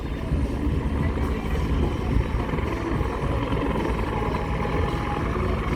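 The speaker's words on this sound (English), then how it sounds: "keep your eyes on this helicopter here, folks" A search and rescue helicopter hovers close by, its rotor giving a loud, steady, dense roar that stays constant throughout.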